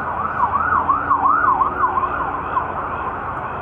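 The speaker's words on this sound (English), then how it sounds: "ambulance is going by." Outdoors by garden beds, an ambulance siren wails in a steady rising-and-falling pattern, moderately distant over road noise, fading slightly as it passes.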